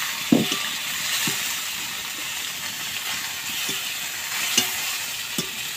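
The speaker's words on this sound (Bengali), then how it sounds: "মাছগুলো দেখো আমার ভাজা হয়ে গেছে।" Bam fish (freshwater eel) frying in a pan of oil: a soft, steady hissing sizzle with occasional crackling pops and a few light knocks, close up with no one talking.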